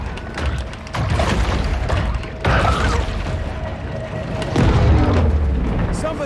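Torpedo explosions in an angry shark video game: a run of deep, rumbling underwater booms that overlap into a churning roar, with a heavier blast near the end.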